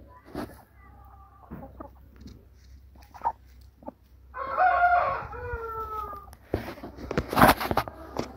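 An Aseel rooster gives one full crow midway, close by, on a free-range farm, with scattered clucks and short bird calls before and after.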